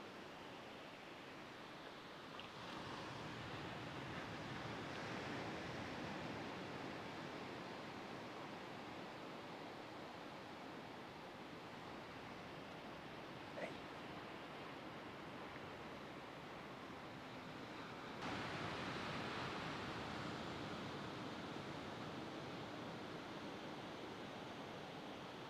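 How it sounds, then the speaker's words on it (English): Ocean waves roll steadily onto a beach in rain, a continuous broad wash of surf that swells louder near the end, with no voices. "I was falling asleep looking at the waves, listening to that sound"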